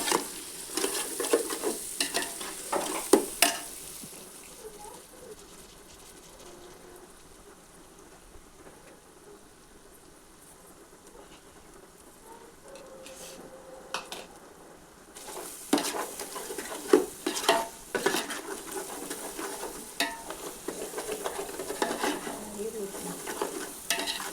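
Biryani ingredients stirred and sautéing in a pan for chicken biryani, a steady sizzling hiss with scraping stir strokes that come in bursts at the start and again near the end, quieter in the middle, no talking.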